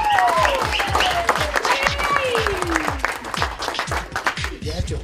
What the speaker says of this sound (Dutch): Maar ongelooflijk applaus voor